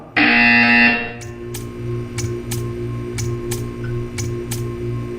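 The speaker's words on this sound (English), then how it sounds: "You will hear a buzzer." A harsh electronic buzzer from the video game Portal 2 sounds loudly for about a second, then gives way to a rhythmic run of sharp, evenly spaced ticking clicks over a low mechanical hum.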